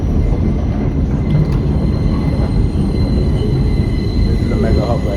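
A New York subway train riding between Brighton Beach and Coney Island, with a steady loud low rumble of wheels and car noise, faint squeals above and muffled voices underneath.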